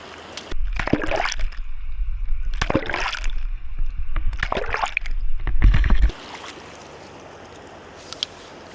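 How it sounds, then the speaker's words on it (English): A waterproof case for a DJI Osmo Action 6 camera is swished and dunked in water, giving four loud bursts of sloshing and splashing before fading to quiet trickling and faint drips. "swish it around left to right, forwards and backwards. And let's just dunk it in a few times as well"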